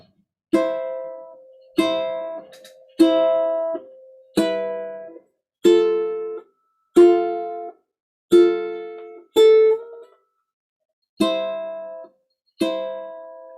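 Ukulele notes ring out one at a time in a slow, even rhythm, each struck and then sounded again with a light hammer-on, nothing else audible.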